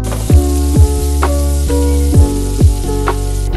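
Beef brisket sizzles loudly on a Korean barbecue grill, a steady close frying hiss broken by regular sharp pops and clicks, with no talking.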